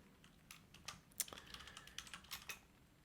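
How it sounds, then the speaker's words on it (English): Someone types a short burst of keystrokes on a computer keyboard, quick irregular clicks close to the mic with a sharper tap near the middle, over a quiet room. "Making sure I'm typing this right."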